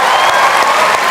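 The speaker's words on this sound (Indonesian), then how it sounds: "Silakan kita kasih tepuk tangan." Loud, dense applause from a crowd, continuous clapping filling the space for a moment.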